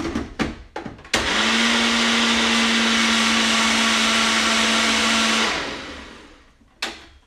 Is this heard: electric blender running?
yes